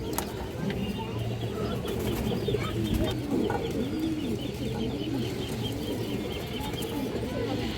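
Lal Gear pigeons shown for sale give soft repeated cooing and occasional wing flaps against steady background bustle, fairly close and continuous throughout, with someone talking over them.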